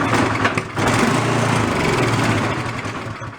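A free secondhand snow blower's small gasoline engine runs loud and close, a steady buzzing drone with a brief dip early on before settling into an even roar.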